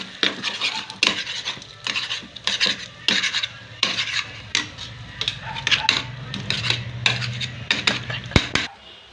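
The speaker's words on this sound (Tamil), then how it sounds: "ஒரு 2 முட்டையை உடச்சி வீத்திக்கலாம்." Two eggs with pepper powder are whisked in a bowl, a fork or spoon clinking and scraping in quick irregular bursts, close and fairly crisp throughout.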